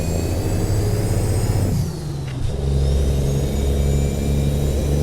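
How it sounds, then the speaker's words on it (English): A car engine pulls hard under acceleration, then drops off in a brief lull as a gear changes before the revs climb again, a steady loud drone all the way through. "so now we'll go up through our gears"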